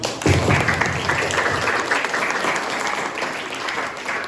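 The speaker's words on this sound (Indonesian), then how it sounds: "Tepuk tangan dulu dari sini." Applause breaks out at a farewell ceremony for PPG teaching-practice students, opening with a thump, then a group claps steadily and fairly loudly close by for several seconds.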